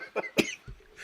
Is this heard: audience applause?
no